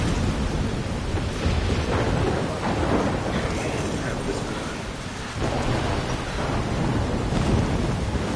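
A thunderstorm in the video game Life Is Strange plays throughout, with dense rain and rolling thunder as a loud, continuous wash.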